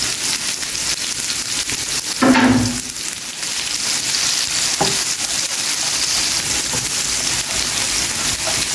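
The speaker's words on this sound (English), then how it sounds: "saute these for them to get translucent" Hot peppers, thyme, garlic and tomatoes sauté with onion in a pan for Jamaican saltfish fritters, giving a steady loud sizzle broken by a couple of sharp utensil knocks against the pan.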